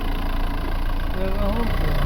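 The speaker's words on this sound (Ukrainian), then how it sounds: "Моторчик файно працює." Opel Astra H with a 1.7 CDTI diesel engine idles steadily, a constant close rumbling drone with a faint mechanical hum throughout.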